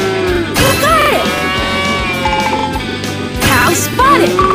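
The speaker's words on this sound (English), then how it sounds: "Cow spotted. There's a cow." A cartoon cow moos in a Paw Patrol video game, with two drawn-out bellowing calls heard loudly over cheerful background music and game sound effects.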